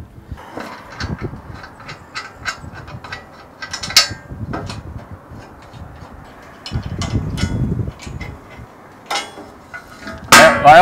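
Metal clanks and ratcheting wrench clicks as bolts come off the heavy-duty steel shield of a Q-Catch cattle chute, with irregular knocks and a louder metallic rattle near the end.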